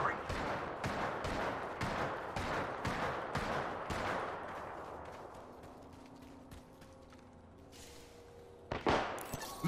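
Gunfire in a shooter video game comes as a rapid run of loud repeated shots for about four seconds, then fades into quieter battle noise, with a few later bangs and some game voices underneath.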